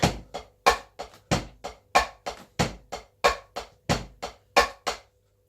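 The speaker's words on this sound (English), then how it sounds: "So basically, standard rock beat sounds like this." A standard rock beat on a drum kit, about a dozen evenly spaced hits alternating kick and snare with bright cymbal wash, played alone and close before stopping.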